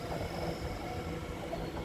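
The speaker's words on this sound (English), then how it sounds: "to my left where that train's just coming in, that's actually platform 6" A train pulls into platform 6 at Shenfield station in Essex, a steady low rumble and rolling hiss that holds evenly throughout, with no voices.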